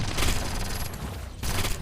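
Gunfire in the shooter video game T3 Arena comes as rapid bursts of shots, then a brief gap before another burst, close and punchy.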